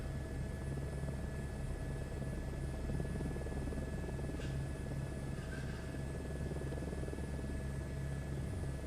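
An H125 helicopter in Microsoft Flight Simulator comes in to land on a helipad in Norway, with a steady, even rotor and engine drone that holds unbroken at moderate loudness.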